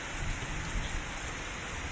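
Steady rain falls on a durian sapling planting site, a dense, even hiss of drops hitting surfaces with no talk.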